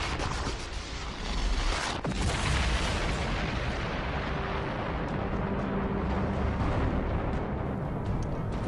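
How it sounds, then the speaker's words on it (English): Oil rig explosion in a Fallout 4 cutscene: a loud, continuous roaring blast and rumble that fills the whole stretch with dense, heavy noise. "After escaping, a cutscene begins and the oil rig explodes."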